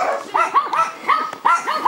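Dogs bark close and loud in a quick series of sharp, slightly whiny barks, several in under two seconds.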